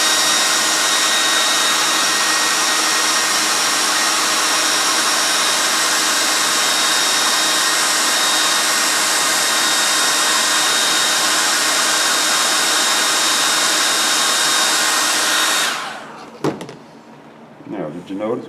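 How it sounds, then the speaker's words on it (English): A hair dryer blows loudly and steadily for about fifteen seconds, then cuts off, leaving a few soft handling sounds. "is use my hair dryer and dry that little area out there."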